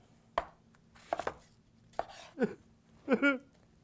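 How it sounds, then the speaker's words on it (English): A knife cuts through an onion on a board in a few sharp, separate strokes, with faint squeaks and clatter in between. "Now we're going to slice an onion here."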